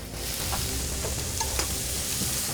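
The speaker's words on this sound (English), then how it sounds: "I'm just whisking up the yolks." Egg yolks whisked in a bowl for a carbonara, a steady, close scratchy stirring noise running without a break and with no one speaking.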